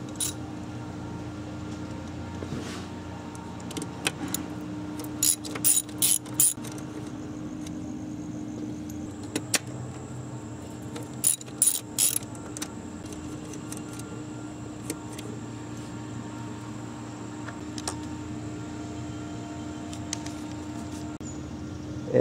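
A ratchet works loose the 12 mm bolts on a Nissan Maxima engine during a spark plug job, giving two short clusters of rapid metallic clicks over a steady low hum, with no voices.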